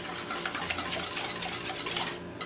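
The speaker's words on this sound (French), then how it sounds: "on a fouetté les œufs" Eggs are beaten in a bowl for a frittata, giving a quick, steady run of rapid whisk strokes close up, busy and rhythmic, with no talking.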